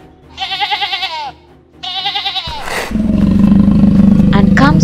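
A tiger in a toy animal-farm diorama: two wavering, harmonic growling calls, then a louder, sustained rumbling roar that continues to the end.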